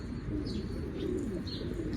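A blue male pigeon coos softly and close by, a low, throaty burbling that carries on without a break, with a few faint higher chirps above it.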